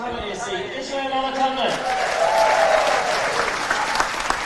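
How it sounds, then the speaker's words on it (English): A stadium crowd at the national senior outdoor track and field championships cheers and claps as sprinter Israel Olatunde is introduced, a swelling roar with a commentator talking over it. "Expect to hear a pretty big cheer for Israel Olatunde now as he's introduced."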